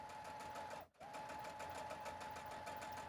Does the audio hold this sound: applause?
no